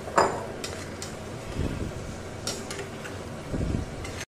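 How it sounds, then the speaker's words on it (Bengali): Boiled kidney beans (rajma) stir-fried in an oily spice masala give a soft, steady sizzle under scraping and stirring, with occasional clinks from the pan. "এবার আমি সেদ্ধ করা রাজমাগুলো এর মধ্যে দিয়ে একটু কষিয়ে নিচ্ছি।"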